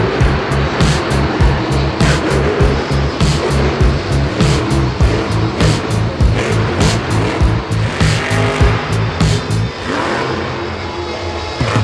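The El Toro Loco monster truck roars at a Monster Jam show, with a loud, pulsing engine that revs in rapid repeated bursts, then eases off near the end.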